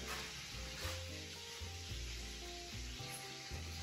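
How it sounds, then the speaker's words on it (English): Food fries in a pan with a continuous crackling sizzle, over a low humming tone in the background. "Why is it frying?"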